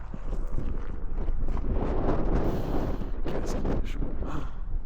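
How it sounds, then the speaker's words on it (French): Strong wind blows steadily in the open inland of the Sunshine Coast, a loud continuous roar with gusty surges and buffeting against the microphone for the whole stretch, no voices present. "C'est ce vent là"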